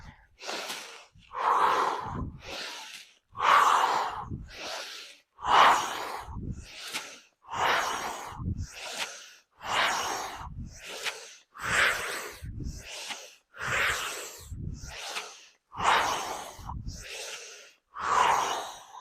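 Slow, deep breathing during a standing morning mobility routine: a long series of loud, close inhales and exhales alternating in a steady rhythm, each breath a couple of seconds long, with no talking.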